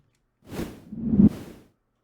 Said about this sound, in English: this is just white noise that I've put through a filter